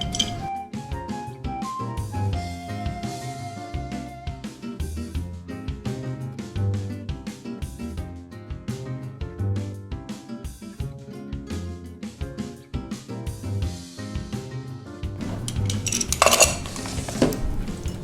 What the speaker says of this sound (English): we're gonna use this lovely little garlic press